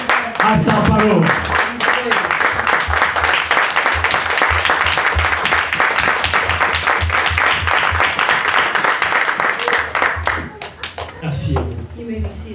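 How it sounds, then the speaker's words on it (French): A church congregation claps during a worship service, a loud and dense crowd of hands keeping a fast rhythmic beat. Voices rise over the clapping near the start and end. "Une main d'acclamation à notre Seigneur, à sa parole."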